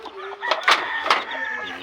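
A backyard rooster gives a single loud, close cock-a-doodle-doo crow lasting under two seconds, with no other sounds around it.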